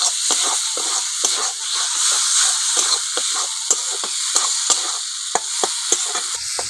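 Crab brain frying in a spice masala in a pan, a loud continuous sizzle and hiss with repeated sharp spattering pops scattered across it.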